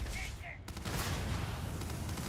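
A space-combat gun in the game Starfield fires as a dense, continuous burst of heavy, booming shots that fill the whole moment after a brief quieter start, loud and close.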